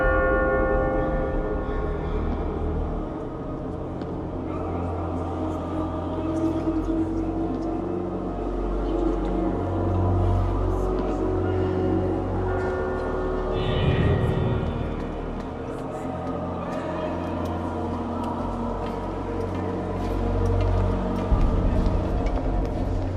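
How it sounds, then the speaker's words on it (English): A church bell tolls in Assassin's Creed II, its deep, resonant strikes layered over a sustained choral and organ-like drone that fills the whole stretch at steady volume. "becomes louder at the altar, when the bell rings for the 12th and last time"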